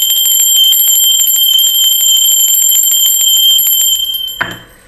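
A bright, ringing bell that opens a tarot reading rattles continuously and loudly, like a rapid alarm-style ring, before being stopped with a faint clatter near the end.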